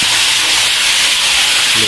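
Fish frying in hot oil at a market near Al Balad in Jeddah gives a loud, steady, close sizzling hiss throughout.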